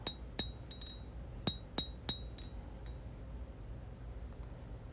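A hammer strikes a blade forged from a worn-out file on an anvil, a handful of bright ringing metallic hits spaced irregularly over the first few seconds, then a low background hum.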